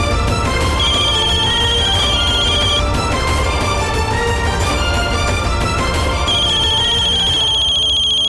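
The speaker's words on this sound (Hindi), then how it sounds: "ये बॉस का फोन आ रहा है" A loud electronic phone ringtone plays over a busy musical backing, a repeating high melodic tone recurring throughout, with no speech.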